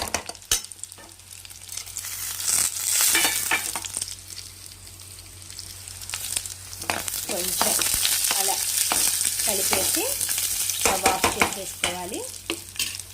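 Peanuts and roasted gram scrape and rattle in a hot pan as they are stirred. Bursts of stirring come and go over a steady low sizzle, close and fairly loud, with no talk.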